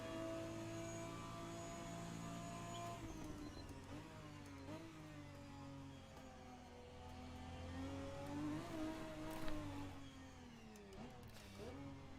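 A Toyota Supra GT4 race car in the Assetto Corsa racing game at the Long Beach street circuit, its engine droning steadily and rising and falling in pitch through shifts and corners, fairly quiet throughout.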